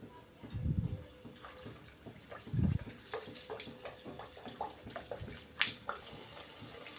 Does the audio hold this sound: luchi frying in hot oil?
yes